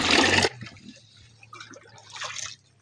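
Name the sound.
water flowing at a water source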